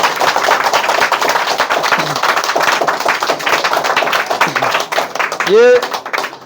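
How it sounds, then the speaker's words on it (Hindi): Dense, steady clapping from an audience applauding a schoolgirl, a broad crackle of many hands that runs the whole time, with a brief voice and a short whistle-like tone near the end. "एक बार इस बिटिया के लिए ताली बजाइए भैया।"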